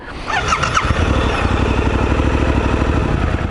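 A Suzuki V-Strom 800DE Dirt Edition motorcycle runs with a loud, close, steadily pulsing engine note that rises briefly at the start and then holds an even throb.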